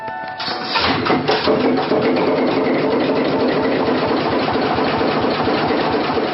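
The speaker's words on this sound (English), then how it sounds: "It is after midnight before Captain Eric Smith and our crew are able to raise the ship's massive anchor and get the engine started." A ship's massive engine starts up and then settles into a loud, steady, close mechanical chugging with a fast rhythmic knock that continues alone.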